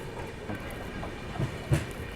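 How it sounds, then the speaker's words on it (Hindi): A train passes on the railway line near Mehsana Junction, heard from aboard an express train as a steady rolling rumble with faint clickety-clack and a couple of louder knocks near the end. "सामने से एक और कोई ट्रेन आ रही है"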